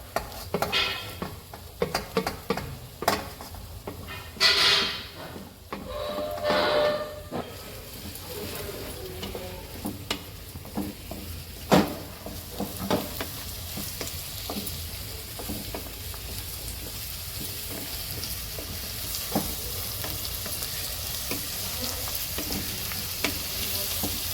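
Onion, carrot and cabbage stir-frying for Manchurian: steady close sizzle with frequent scraping and tossing clicks of a spatula against the pan, busier at first, then a more even hiss.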